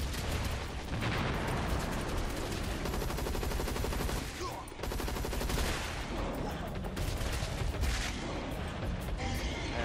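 Dense, continuous gunfire in a video game, rapid automatic bursts with booming blasts layered over one another, loud and close, with a brief lull midway and game effects mixed in.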